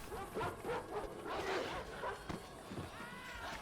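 War dogs in a Total War: Rome Remastered battle bark and yip in a rapid, overlapping series, loud and close over the game's battle noise.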